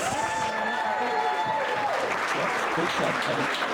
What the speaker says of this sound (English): give Paul a big round of applause